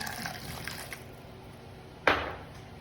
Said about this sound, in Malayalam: കുറച്ച് വെള്ളം ചേർത്ത് കൊടുക്കാം.